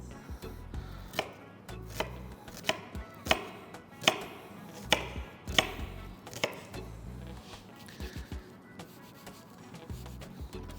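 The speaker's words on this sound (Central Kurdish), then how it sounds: "پیازەکە دەبی بە شێوەی بڕنوازبی بڕنواز واتە زۆر ورد" An onion is chopped finely with a knife on a board: a run of crisp, evenly spaced chops, close and clear, that gradually soften and speed up toward the end.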